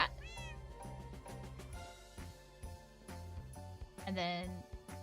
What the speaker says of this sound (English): We have a jelly cat.